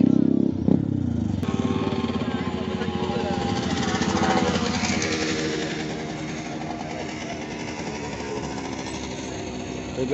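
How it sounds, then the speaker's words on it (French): Rumbling, rapidly pulsing engine noise of motorcycles at a motorcycle rally, loud and close, sustained throughout with a mechanical, chattering throb. "Même des motos, des belles bécanes."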